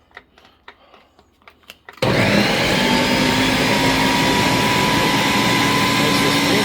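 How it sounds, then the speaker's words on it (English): A Ninja blender starts abruptly after a few quiet clicks and handling sounds, then roars loudly and steadily while blending green pozole sauce. "Okay, Ninja, really good blender."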